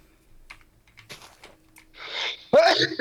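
Someone sneezes once, a sharp burst near the end, after soft keyboard clicks and a breathy intake during a Minecraft survival session.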